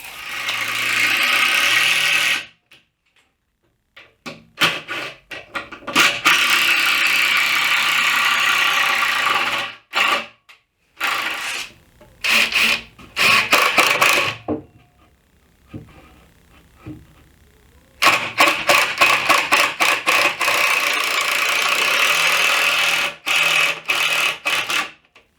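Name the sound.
sawing 2x6 wooden boards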